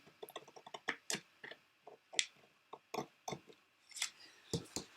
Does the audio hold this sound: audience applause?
no